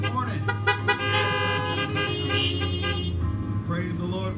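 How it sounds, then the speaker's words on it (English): Car horns honk steadily and loudly outside at a drive-in church worship service, several overlapping toots blaring together with voices mixed in. "Can I get a horn honk this morning?"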